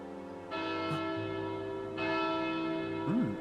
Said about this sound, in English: Is that the dinner bell?